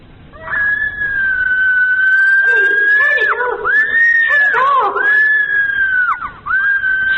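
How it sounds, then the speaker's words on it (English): A woman screaming, played from a tape recording: a loud, sustained high-pitched wail that wavers and breaks a few times before rising again, with a thin, band-limited tape quality. "Now, here's the tape. Just where Thomasina screams."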